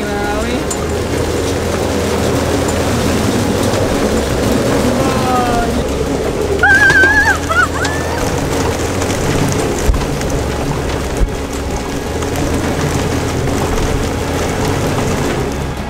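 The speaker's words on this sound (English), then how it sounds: "It's hailing now." Hail and rain from a supercell storm pound a small sailboat in a dense, steady hiss under wind and some mechanical noise, with people talking and brief high squeaks near the middle.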